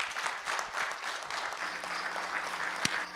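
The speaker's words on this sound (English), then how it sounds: "I'm still clapping." Audience applause after a talk at a cloud careers summit, a steady wash of clapping from a roomful of people, moderately loud, with one sharp clap standing out near the end.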